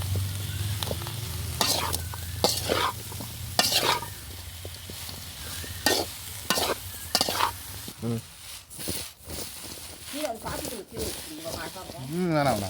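Jackfruit fry (palaakaai varuval) is stirred and fried in a pan, a steady sizzle with scraping stir strokes throughout, and a person talks over it for much of the time.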